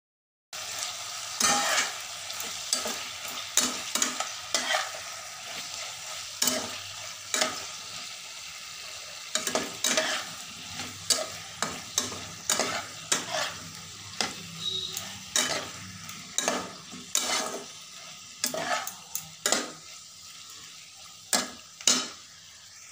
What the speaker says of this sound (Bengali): এরপর ডিম দিয়ে ভালো করে মিশিয়ে নেব।